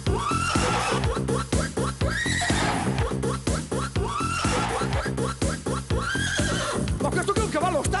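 Repeated horse neighs and whinnies in a loud stage show setting, several shrill, wavering calls in succession over a dense musical backing.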